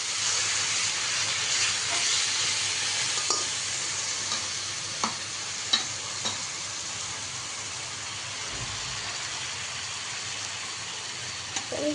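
Spices, bay leaf and onions frying in hot oil give a constant soft sizzle, with a few sharp pops and occasional stirring clatter.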